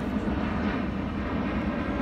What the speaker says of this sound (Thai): เสียงเครื่องบินจ้ะเราอยู่ใกล้สนามบิน